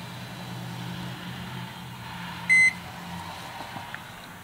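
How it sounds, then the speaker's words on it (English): A microwave oven hums steadily inside a truck camper, with a single short electronic beep partway through; the sound is quiet and there is no talk. "But yes, the microwave does work."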